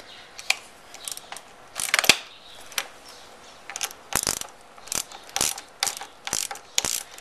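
A ratchet with a 10mm deep socket loosens the clutch lever bolt on a V-Strom motorcycle, giving close bursts of rapid clicking separated by short pauses, with no talk.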